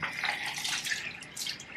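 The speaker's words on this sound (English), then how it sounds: "So now I'm going to apply water" Tap water pours steadily into cupped hands at a bathroom sink, a close, continuous splashing hiss for a brief moment during a facial skincare routine.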